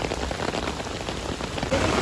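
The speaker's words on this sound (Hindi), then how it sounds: "बारिश जो है ना पिछले कोई 3 घंटे से कंटिन्यूस हो रही है" Heavy rain pours steadily in Bahria Town, Karachi, a dense continuous hiss of drops pattering on surfaces, close and loud with no voices.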